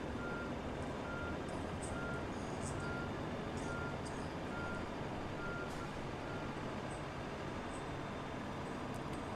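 An airport catering truck backs away from an airliner, its reversing alarm beeping in a steady, evenly spaced series over a constant loud engine and apron rumble.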